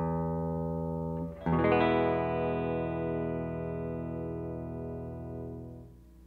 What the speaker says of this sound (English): For the distortion, I'm using a Carl Martin Plexitone.